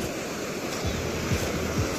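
Sea surf washing onto a stony beach on the Spanish coast, a steady broad wash of breaking waves with wind noise across the microphone, close and fairly loud with no talking.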